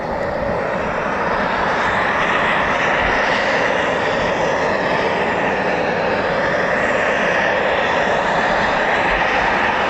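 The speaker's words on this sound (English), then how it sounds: "you can hear Typhoons spooling and starting up there now" RAF Eurofighter Typhoon FGR4 jet engines spool up and start at RAF Coningsby, a loud, continuous rushing whine that holds steady throughout, with no voices.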